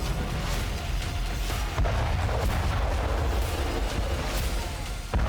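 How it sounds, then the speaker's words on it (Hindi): Russian army TOS-1A multiple rocket launcher firing on Ukrainian positions in a war zone: a steady, dense roar of rocket launches and distant booms running throughout, with sharp bursts near 2 and 5 seconds and no talk. "रूसी रक्षा मंत्रालय के मुताबिक सेना ने toss 1A multiple rocket launcher से यूक्रेनी चौकियों को ध्वस्त कर"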